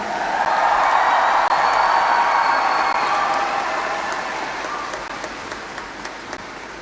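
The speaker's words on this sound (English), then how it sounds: "Huge cheer, please" Concert audience applauding and cheering at a youth orchestra and choir performance in Limerick, a broad sustained roar of clapping that stays loud, then slowly eases and thins toward the end.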